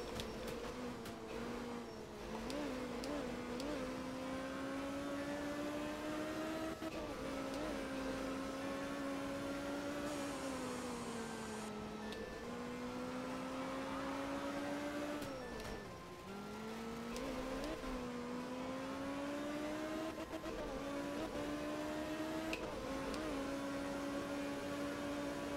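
Rally car engine in a racing video game, a Kenya endurance stage, droning steadily at high revs with rising and falling pitch as it shifts and accelerates, loud and continuous throughout with no talk.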